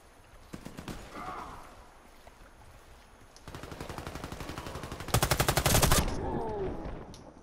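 Gunfire from the video game Warface: sporadic single shots early on, then a dense burst of rapid automatic fire and a louder, harsher volley near the end, with game ambience between.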